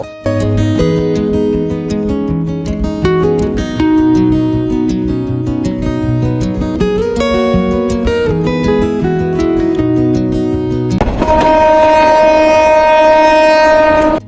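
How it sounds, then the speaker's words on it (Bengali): The Saikat Express passenger train running from Chattogram to Cox's Bazar on a foggy winter morning, a loud steady rumble of wheels and carriages that ends in a sustained blast of the horn. "সেই সৈকত এক্সপ্রেস ট্রেনে আজকে আমরা ভ্রমণ করছি চট্টগ্রাম রেলওয়ে স্টেশন থেকে কক্সবাজার পর্যন্ত"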